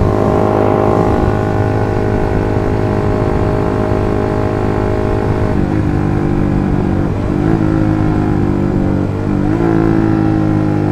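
A Suzuki GSX R150 motorcycle engine drones loudly and steadily nearby, its pitch dipping a few times as it shifts through gears, with no talk.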